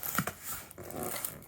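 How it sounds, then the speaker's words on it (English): A dog makes soft, close growly and whimpering sounds in a few short bursts over a low background, with no talk. "What you want, waggly tail dog?"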